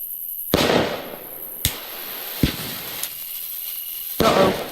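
Fireworks burst in the video game Fireworks Mania, several sharp bangs and crackling blasts at irregular intervals, loud and close with a hissing tail between them.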